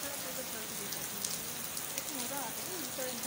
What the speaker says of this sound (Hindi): तूफानी बारिश है ये।